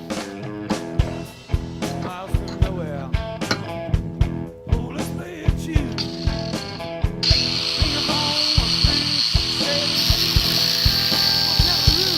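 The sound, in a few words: screw being backed out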